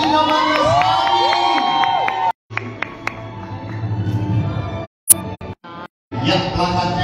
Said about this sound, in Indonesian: Sekali lagi berikan tepuk tangan untuk Ibu Ninyoman Lestari.